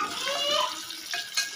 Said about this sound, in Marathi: अशाच प्रकारे पूर्ण पनीर फ्राय करून घ्यायचं आहे आपल्याला